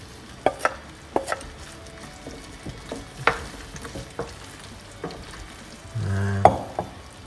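Gnocchi stirred into a lobster and mushroom cream sauce in a pan, giving soft scattered clinks and scrapes, with a brief low rumble of sizzling near the end.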